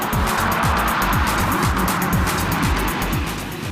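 A white Honda NSX-R sports car engine revs hard and loud up close, its pitch climbing repeatedly through rapid gear changes in a sustained, high-revving roar.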